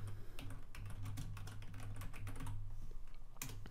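Quick runs of keystrokes on a computer keyboard while a material name is entered, close and clear with steady clicking rhythm and a low hum underneath, no talking.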